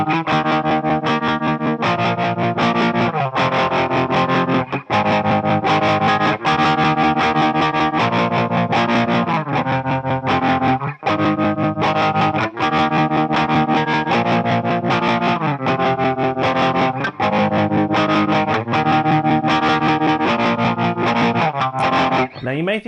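Electric guitar chords played through an Electro-Harmonix Nano Pulsar tremolo pedal set to a fatter shape and faster rate, loud with steadily pulsing volume chops and occasional chord changes, no talking.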